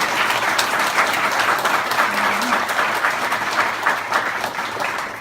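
An audience at a Scandinavian sci-fi interview event claps loudly and continuously, a thick wash of applause holding steady throughout.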